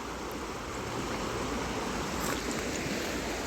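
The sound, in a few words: creek flowing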